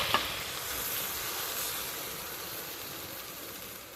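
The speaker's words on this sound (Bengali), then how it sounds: "এবার এই থালা ধুয়ে জলটা দিয়ে দেব।" Small fish cooking in a hot pan sizzle hard as water is poured in, with a sharp hiss at the start settling into a steady frying crackle.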